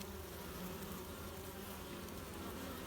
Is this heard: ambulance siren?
no